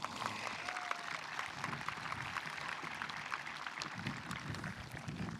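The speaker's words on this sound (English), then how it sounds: "Let's give them a big round of applause." Steady, dense applause from a graduation audience at the Findlay High School 2021 ceremony, many hands clapping together at an even level, fairly soft and distant-sounding throughout.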